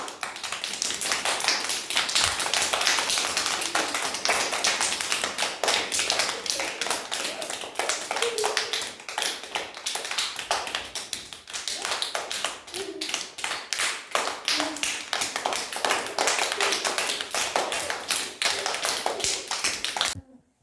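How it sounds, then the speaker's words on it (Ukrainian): Clapping from the audience at a children's Shevchenko commemoration, a long, steady stretch of many hands with a sharp, crackly texture, fairly loud and close, continuing for about twenty seconds before stopping abruptly. "Шанувати цю гостинність оплесками просимо."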